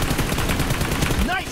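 Gunfire in the battle game PUBG Mobile, a dense run of rapid shots carrying loud and steady throughout, with a short whistling tone near the end.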